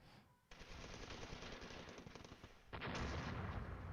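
Gunfire and artillery bombardment in the Flashpoint Campaigns war game, a dense, continuous roar of rapid firing that swells louder partway through.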